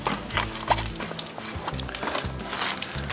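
Bacon frying in cast iron skillets, a steady close crackling sizzle with pops and spatters, the pan loud and constant for the whole stretch.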